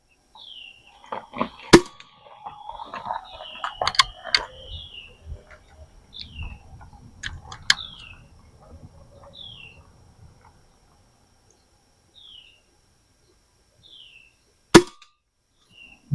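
Anschutz 2002 air rifle firing H&N pellets at a target, heard as a few sharp, isolated shots spaced several seconds apart, with quieter handling noise and faint chirping in between.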